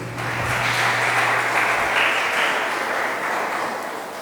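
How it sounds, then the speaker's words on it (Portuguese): A church congregation at a worship service applauds together in a loud, continuous wash of clapping that swells and then slowly fades. "Você pode aplaudir o Senhor mais uma vez?"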